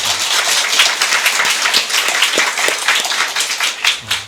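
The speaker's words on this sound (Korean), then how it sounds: "우리 박수 한번 드릴까요?" A church congregation at a baptism service claps for newly baptized members, producing loud, busy applause of many hands that stays continuous for about four seconds.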